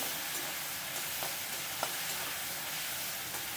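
Ingredients sauté on low heat in a pan for a Tamil fish curry, giving an even, continuous hiss of frying with a few faint stirring taps.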